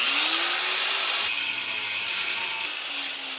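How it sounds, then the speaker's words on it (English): A power tool cuts through metal during a cafe racer seat pan fabrication, producing a continuous harsh, bright grinding whine that holds steady and close, with slight pitch shifts as it bites. "I can't stand cutting metal."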